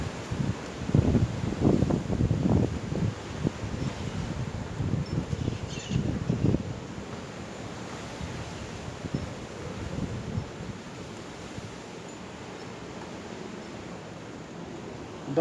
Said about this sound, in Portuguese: O vento vem forte, viu?